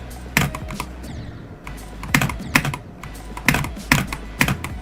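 Rapid typing on a computer keyboard during a platformer game, with irregular clusters of key clicks and the louder thump of the spacebar standing out over a steady background hum.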